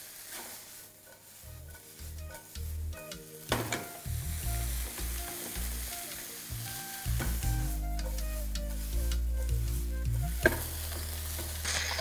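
Chicken fries with a steady sizzle in a nonstick pan over a medium-high flame, without extra oil, while a utensil stirs and scrapes it at irregular intervals. The cooking sounds are close and continuous, with no talking.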